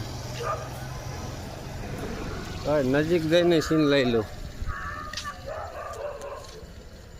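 A dog gives a short burst of barking and yelping for a second or two amid outdoor background noise, with people talking nearby, in Junagadh, Gujarat.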